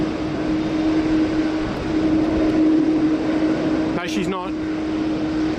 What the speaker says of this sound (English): Looks like Qantas Flight 146 is about to make the right-hand turn here onto bay number 9